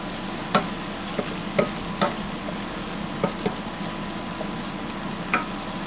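Vegetables for spaghetti sauce with meat sizzle steadily in a pan, with a constant frying hiss and occasional scraping taps of a stirring utensil close by.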